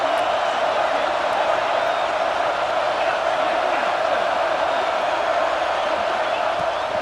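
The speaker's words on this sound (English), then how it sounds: "Man, this crowd really affecting the football game." Home crowd roaring at a football game, a loud, steady wall of cheering and whooping that holds without letup from start to finish.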